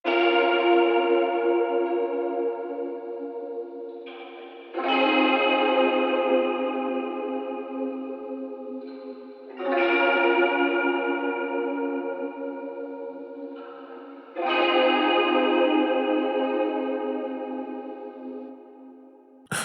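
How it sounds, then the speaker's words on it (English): A guitar sample drenched in heavy reverb rings out in four long, slowly fading swells, each struck about five seconds apart, with no voices. "It sounded like a guitar that had a lot of reverb in it"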